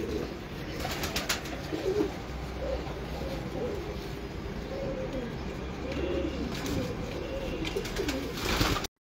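In a home pigeon loft, several birds coo continuously in low rolling phrases close by, with scattered clicks and faint rustling mixed into the steady murmur.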